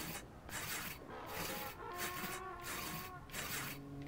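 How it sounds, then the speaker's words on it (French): A saw cuts into a tree in the video game Brothers: A Tale of Two Sons, faint rhythmic rasping strokes back and forth, about seven pulls, under quiet game music. "Et il va falloir scier l'arbre."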